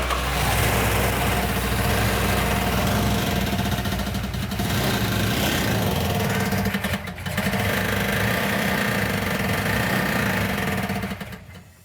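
A Plymouth Barracuda engine runs loud and rough at close range after a fuel supply fault was worked on, holding a steady idle with one brief dip midway.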